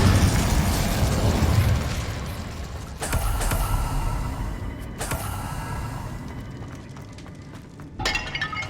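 Incendio fire spell in Hogwarts Legacy, a loud bursting blast that decays into crackling, followed by two sharp cracks midway and a final clinking burst near the end, with no one talking.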